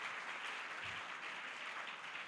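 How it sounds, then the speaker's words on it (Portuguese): Audience applause for a professor being introduced at an academic event on innovation in education, a fairly quiet, steady wash of clapping lasting the whole moment with no talk. "Uma salva de palmas para a professora."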